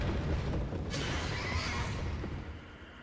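A horse neighs in the video game Mouthwashing, a loud whinnying burst over a dense, rumbling layer of ambient game noise that fades toward the end.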